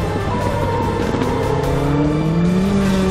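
A pack of race cars roars around a circuit, engines loud and sustained with rising revs as the cars accelerate together.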